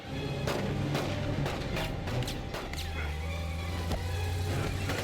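Libyans firing guns and missiles at Doc Brown in LEGO Dimensions: a string of sharp gunshots and booms cracking out at uneven intervals over a rumbling vehicle engine, loud and busy throughout.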